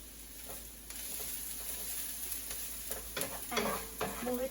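Finely chopped green chilies fry with crispy onions in a pan for Gobi Manchurian: a faint, low sizzle, then sharper stirring scrapes and crackles grow louder toward the end.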